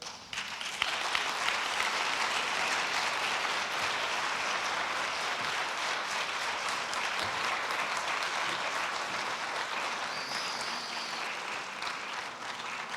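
A large audience at a World Theatre Day ceremony in a Paris hall claps in a thick, sustained roar of applause that stays loud and even throughout, with no voices standing out.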